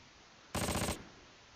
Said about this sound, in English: Where's that machine gun coming from?